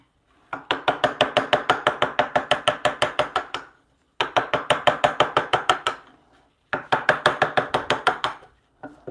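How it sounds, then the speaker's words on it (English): A wooden mallet strikes a chisel cutting end grain for a mortise and tenon joint on a bunk bed rail. The blows come as three quick rhythmic runs of sharp knocks, close and loud, separated by short pauses. "End grain is the hardest part to chisel here."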